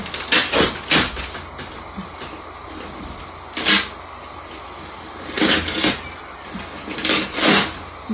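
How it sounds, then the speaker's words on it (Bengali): A parcel is unwrapped by hand, giving several bursts of rustling and tearing packaging, close and fairly loud, with quiet pauses between them. "এদিকে আমি পার্সেলটা খুলছি"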